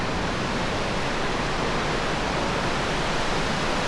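Russell Falls in Tasmania, a steady, loud broadband rush of falling water with no breaks, heard close by and with no voices.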